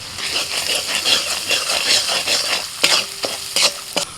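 Kashmiri chili, turmeric, red chili, coriander and cumin powders fry in a pan, giving a close sizzle with repeated scraping stir strokes and clacks of a spoon against the pan.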